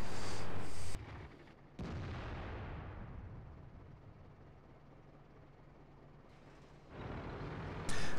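Tank guns boom in a war video game. A heavy blast opens, another follows about a second later and rumbles off into a long fade, and a third loud boom comes near the end, all over a low engine drone.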